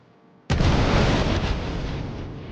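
A missile strikes the Raven ship in the Star Citizen 3.9.1 game and explodes in one sudden, loud blast, followed by a dense roaring rumble that slowly fades.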